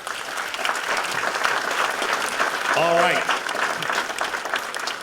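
Debate audience at a federal election debate in Port Moody-Coquitlam breaks into sustained applause, a broad, steady roar of clapping from a sizable crowd, with a voice speaking briefly over it midway.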